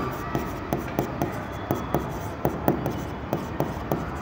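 Marker or pen writing by hand on a board as a teacher writes an accounting working note, a steady run of close scratchy strokes and taps at a regular rhythm.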